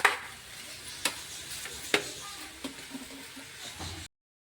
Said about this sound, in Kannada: ಇದನ್ನು ಚೆನ್ನಾಗಿ ನಾನು ಫ್ರೈ ಮಾಡಿಕೊಂಡು ತೊಗೋತೀನಿ ನೋಡಿರಿ